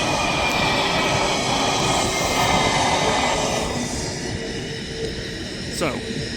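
Airplane taking off at Manchester Airport, a broad roaring jet engine rush that stays loud and steady, then eases slightly near the end, heard from nearby.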